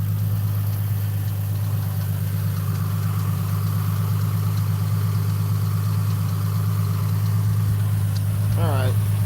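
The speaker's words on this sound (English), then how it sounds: "I'm gonna just let this idle, get it warmed up, get it up to temperature" Ford car engine idling while warming up during coolant leak diagnosis, a steady, loud low hum throughout with a brief squeal near the end.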